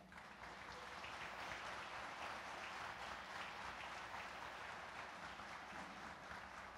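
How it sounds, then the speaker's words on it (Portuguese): A church congregation in São José dos Pinhais claps in sustained, dense applause that stays loud and steady throughout, with no talking over it. "Você pode aplaudir Jesus?"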